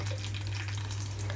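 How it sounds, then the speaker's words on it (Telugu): Slit green chillies frying in hot oil make a continuous gentle sizzle and hiss, close by and fairly quiet, with no voices. "ఇక్కడ ఇందులోనే పచ్చిమిరపకాయలు వేసి వేయించుకుంటున్నాను"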